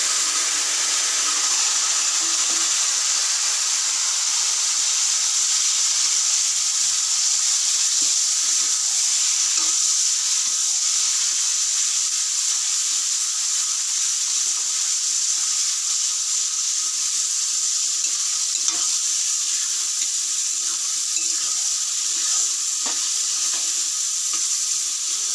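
Boiled, drained taro stems go into a pan of garlic and chilies frying in oil, a steady, close, hissing sizzle that runs throughout with occasional faint stirring clicks.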